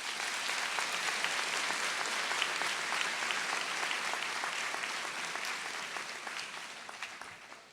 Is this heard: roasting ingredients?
no